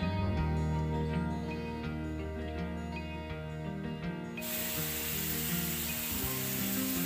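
Tomatoes hit a hot pan of onion and ginger-garlic-chilli paste for aloo gobhi curry, setting off a sudden loud, steady sizzle halfway through after a stretch of background music.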